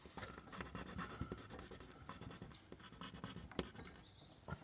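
Graphite pencil pressed hard while shading dark value on drawing paper, a continuous close, quiet scratching and scraping with small irregular strokes and no talking.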